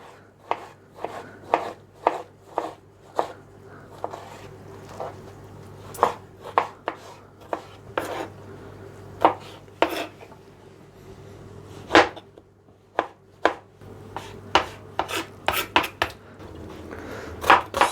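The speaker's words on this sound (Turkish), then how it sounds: "Bunları e, ufak ufak doğrayacağız." Steady knife chopping of peeled tomatoes on a cutting board, dozens of sharp taps in a quick, slightly uneven rhythm, close by with a low background hum.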